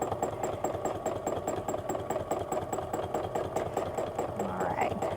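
A sewing machine runs steadily at a fast, even pace during free-motion quilting, its rapid mechanical clatter continuous throughout, with no talking.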